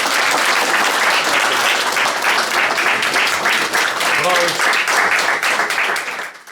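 Citizens, eco-activists and protest participants applaud loudly and steadily in the Kočani municipal council hall, sustained clapping filling the room while a narrator talks over it.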